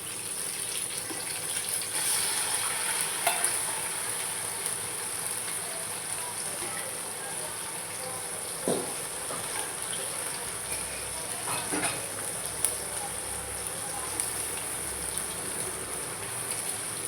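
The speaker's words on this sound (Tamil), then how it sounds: "வெங்காயம் நல்லா வதங்கி வந்துருச்சுங்க." Onions and chicken fry in oil for a Jabar bhai style biryani, a continuous close rain-like sizzle with occasional scraping stir sounds and clinks.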